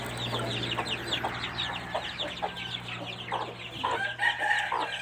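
Chicks and a hen cluck and chirp in a busy cluster close by, with a steady low hum running underneath.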